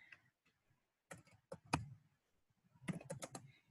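Typing on a computer keyboard, short bursts of sharp key clicks separated by pauses, close and fairly quiet, with no voices.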